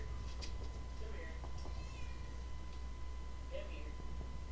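A cat gives a few soft, faint meows and small chirps at close range against a low background hum.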